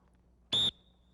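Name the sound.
dog training whistle blast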